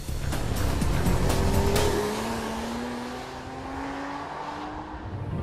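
A 2009 Porsche Cayman S sports car with a 320-horsepower engine drives hard, tires squealing in sharp bursts before the engine note rises in a long, steady pull as it accelerates away.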